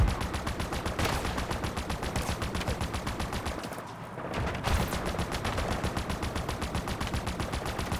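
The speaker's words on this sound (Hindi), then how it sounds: "हैवी फायरिंग हो रही है." Heavy automatic gunfire from a Halo Infinite match, dense rapid bursts of shots running nearly continuously and loud, with a brief lull around the middle before firing resumes.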